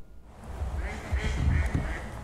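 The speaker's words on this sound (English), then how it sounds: "Amongst the gaggle of Canada geese that graze grassy areas in Deering Oaks Park" Canada geese in a grassy city park give several short nasal honks in a loose cluster, close and moderately loud, with a voice speaking over them.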